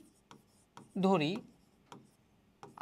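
Chalk or marker scratches on a board during a physics lesson, with several short taps and one longer scraping stroke, fairly faint and close.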